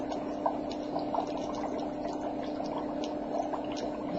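Dry ice sublimating in a container of water gives a steady, close bubbling and fizzing wash with a low hum underneath, small pops and gurgles scattered throughout, with no voices.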